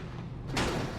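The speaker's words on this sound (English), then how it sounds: "Just listen to the impact as this crash happens in front of him." Race car crash impact in the iRacing video game, a NASCAR race at Watkins Glen with a car hit hard on its right side: a sudden loud broadband crunch midway through, over steady engine and track noise.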